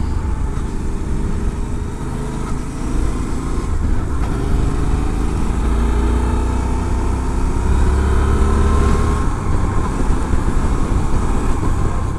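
Constant roar of a Suzuki V-Strom 800 motorcycle cruising on a highway at about 110 km/h, with steady engine drone and heavy wind rush throughout, no voices.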